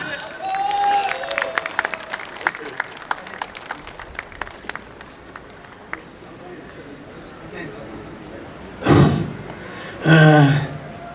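At a Korean War 73rd anniversary patriotic rally, an audience gives scattered, sparse clapping that thins out over several seconds, followed by a couple of short bursts of voice near the end.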